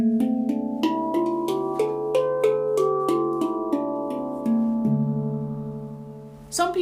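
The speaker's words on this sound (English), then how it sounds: "432 Hz. And it sounds like this." A handpan tuned to A at 432 Hz plays a steady run of about a dozen struck notes, each ringing into the next, close and clear, ending with a brighter tap.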